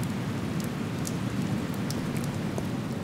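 Steady rain falling on a New York street in the video game Overclocked, a dense, even patter of drops with a few sharper splashes standing out, alone and fairly loud.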